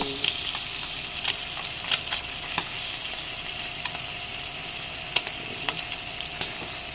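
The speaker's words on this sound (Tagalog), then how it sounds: "isusute yung onion" Onion and garlic sizzle steadily in hot oil in a pan, a continuous bright frying hiss with occasional pops and stirring clinks, close and moderately loud.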